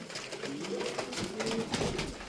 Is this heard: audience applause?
no